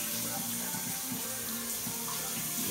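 Shower water running steadily in an apartment bathroom, a continuous close hiss of spray with no talk over it.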